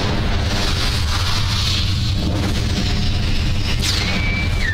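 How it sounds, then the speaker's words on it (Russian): Explosions in the PC action game BloodRayne form a loud, continuous, dense roar of blasts and rumble with no break, and a faint high whine comes through near the end. "Не, меня все равно взрывает."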